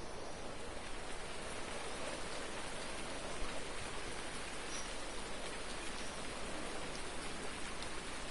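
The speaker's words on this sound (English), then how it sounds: "And now it's raining." Rain in the video game Farming Simulator 19, a steady, even hiss of falling rain with a dense patter of drops, constant and uninterrupted, with no voices.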